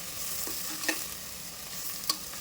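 Washed broccoli with coriander stems sautés in butter in a pan, producing a steady soft sizzle broken by a couple of sharp clinks from stirring, close and without talking.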